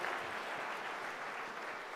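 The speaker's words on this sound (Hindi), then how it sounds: "तो लेट्स हैव इसके लिए जोरदार ताली।" Continuous, even applause from an audience at a health talk about superfoods, heard alone and holding steady throughout.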